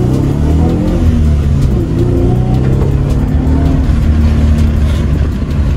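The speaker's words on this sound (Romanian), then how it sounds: "Dă-te în pana mea cum pleacă de pe loc." A petrol Chevrolet Camaro 3.6 with driver-assist systems off accelerates hard from a standstill, its engine revving loudly and steadily up through the gears, heard close from inside with no talking.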